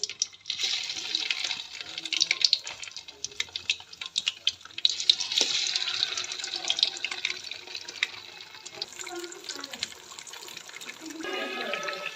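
Batter-coated chicken fries in hot oil with a dense, steady sizzle and crackle, close and continuous for about twelve seconds, with occasional louder pops and spatters.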